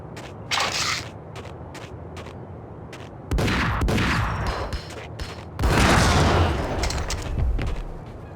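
Sawed-off shotgun blasts in the video game Max Payne, several loud, close booming shots in quick bursts with rattling tails, separated by brief lulls.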